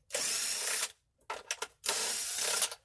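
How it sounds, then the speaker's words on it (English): A socket wrench working loose 10mm bolts on an Ecotec Cavalier engine: two long steady buzzing runs of the tool separated by a few short bursts, close and loud with no talk. "Use your 10mm socket wrench."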